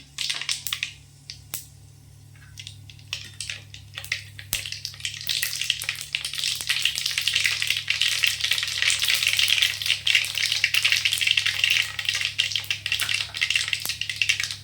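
Mustard seeds splutter in hot oil in a kadai while cooking chicken varuval, starting as scattered sharp pops and building into a dense, crackling sizzle, over a steady low hum.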